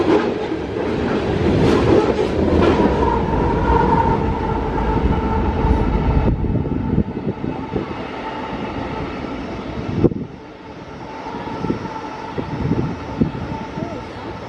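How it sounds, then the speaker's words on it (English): BNSF coal train on the Ottumwa Subdivision in Iowa, led by an SD70ACE and ES44AC locomotives with distributed power on the rear, rumbling past loudly at night with a continuous heavy roar that shifts and eases as the cars roll by. "2 locomotives on the head ends, and 1 or 2 remote-controlled distributed power units, or DPUs, on the rear."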